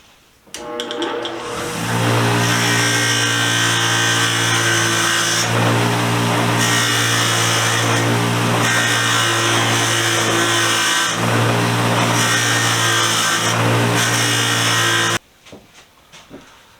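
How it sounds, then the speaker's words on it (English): A wire wheel scrubs grime off metal hand tools with a loud, continuous high whine that runs steadily for about thirteen seconds, then cuts off abruptly, leaving faint clatter behind. "let's get all the funk and gunk off of this with the wire wheel."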